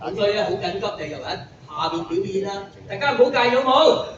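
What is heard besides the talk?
No distinct noise like a dog, phone or traffic.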